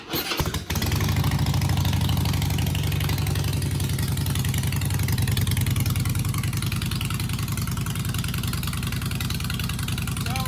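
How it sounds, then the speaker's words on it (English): A Harley-Davidson Night Train motorcycle fitted with a chopper exhaust and relocated coil fires up after a brief crank, then settles into a loud, steady, lumpy V-twin idle close by, with no talking. "I haven't fired the bike off yet, so see if I got the coil situated and everything."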